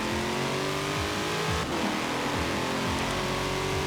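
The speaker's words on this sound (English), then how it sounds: "Nice raspy engine, I like it." Stock 2020 Chevrolet C8 Corvette in Forza Horizon 4, its raspy engine revving up and down through repeated rising sweeps and gear shifts, loud and continuous with a brief dip midway, no voices.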